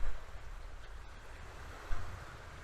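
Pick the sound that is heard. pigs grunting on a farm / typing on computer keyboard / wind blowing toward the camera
wind blowing toward the camera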